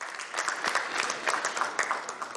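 A small crowd at an insurance conference panel claps steadily, a brief burst of dense, even applause at moderate volume.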